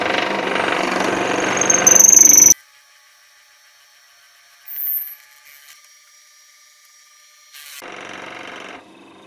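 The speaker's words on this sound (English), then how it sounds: "Big diameter of the drill, so obviously the outer edges spin" A large-diameter drill bit grinds loudly, boring steadily for a couple of seconds, then cuts off into near silence with faint clicks before a softer mechanical whir resumes, in an attic workshop.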